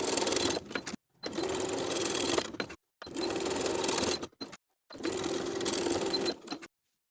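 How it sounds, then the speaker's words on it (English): A sewing machine runs in four steady bursts with short pauses between them, topstitching vertically through the elastic waistband of high-waisted barrel pants. The whirring is close and even. "Just stitching vertically along the waistband to secure the elastic in place and prevent it from twisting."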